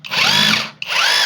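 A cordless battery 26 mm rotary hammer drill whirs up in two close, loud bursts, each rising quickly to a high spinning whine before cutting off.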